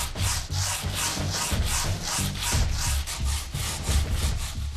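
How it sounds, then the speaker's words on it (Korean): Coarse sandpaper rubs rhythmically over a charcoal-finished paulownia wood rice jar, each back-and-forth stroke giving a close, steady scratchy swish, with no talk. "잘 건조된 항아리는 거친 사포질에도 끄떡없다."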